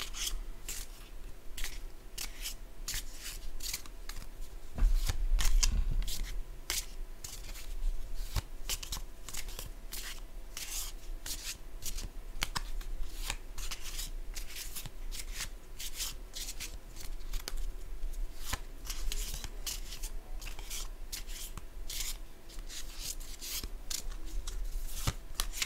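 French castle trading cards shuffled by hand at close range, a quiet, steady run of crisp riffling flicks and soft rubbing strokes continuing throughout.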